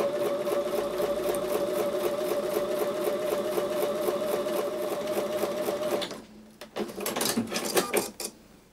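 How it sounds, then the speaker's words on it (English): A sewing machine stitches quilt block seams, humming in a steady fast run for about six seconds, then stopping into brief clicks and handling rattles. "I'm going to take these over to the sewing machine and sew with the 1/4-inch seam"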